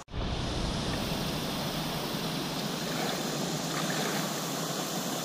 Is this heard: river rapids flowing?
yes